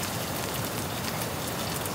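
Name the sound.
rain falling on a campsite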